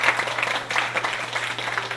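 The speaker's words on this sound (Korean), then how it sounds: "박수 한번 부탁드릴게요, 여러분." Applause from a church youth congregation, a short even patter of many hands clapping together at moderate volume, with a low steady hum underneath.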